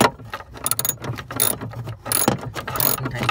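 A hand ratchet tightens the battery hold-down in a BMW, giving several quick bursts of close, crisp clicking with short pauses between strokes.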